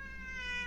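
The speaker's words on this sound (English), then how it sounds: "Shut up, cats." A cat yowls in one drawn-out, steady meow, fairly close but not loud, with no talk over it.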